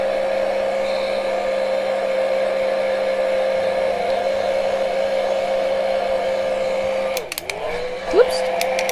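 A hair dryer blows steadily to dry paint on a painted tag, a constant close-up whir with a fixed hum that wavers and dips briefly near the end as it is handled or switched.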